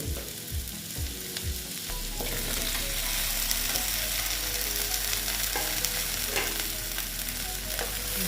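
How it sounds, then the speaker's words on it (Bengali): Okra hits a pan of gram flour masala with a few quick thuds, then fries in a continuous close sizzle under regular stirring scrapes, loud and steady, without any talking. "এখন আমি ভেন্ডিগুলো দিয়ে দিচ্ছি"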